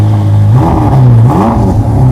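A Ferrari SF90's 4-liter twin-turbo V8 revs loud and close, its pitch climbing, dipping and climbing again in a short burst with no talk.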